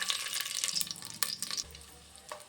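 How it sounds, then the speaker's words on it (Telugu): Cashews and raisins frying in ghee in a kadai, a steady close sizzle with a few stirring scrapes, no voices. "ఇప్పుడు అందులో 1 టేబుల్ స్పూన్ గీ యాడ్ చేస్తున్నాను. ఇప్పుడు ఇందులో జీడిపప్పు, కిస్మిస్ యాడ్ చేసుకుంటున్నాను"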